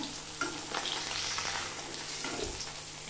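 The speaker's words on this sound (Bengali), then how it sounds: "মাছগুলো কিন্তু আমি একটু লাল লাল করে ভেজে নিয়েছি" Fish fries in a pan with a soft, steady sizzle and occasional stirring scrapes, fairly quiet and close, with no talk over it.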